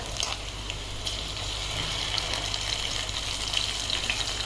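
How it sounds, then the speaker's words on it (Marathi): Steady crackling sizzle of asafoetida and spices frying in hot oil for tempering, close up, with small pops scattered throughout and no talking. "मंडळी फोडणीवरती मी हिंग घातलाय ना"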